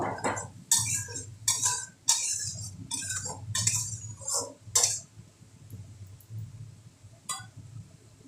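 Mustard powder and spices being mixed in a pan for a small puti fish curry: a run of sharp metal clinks and scrapes of a spoon against the pan, close and bright, thinning out toward the end.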